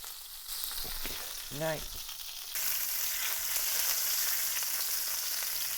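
Bacon sizzles and fries in a pan, a steady close hiss that grows louder and denser partway through, with a brief spoken remark early on.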